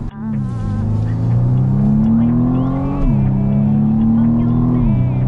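A BMW M135i F40 hatchback's engine plays a synthesized sound through the cabin, a steady, droning note that rises and drops in pitch with gear changes as the car accelerates. The tone holds loud and continuous.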